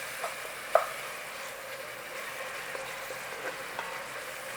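Onions softening in a pan for a Portuguese-style pork vindaloo give off a steady, fairly quiet sizzle and frying hiss, with a few soft stirring clicks and one brief sharper tap.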